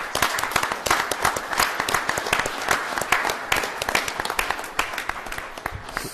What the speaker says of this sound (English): So let's give him a round of applause for Deputy Mayor Mike Stevens.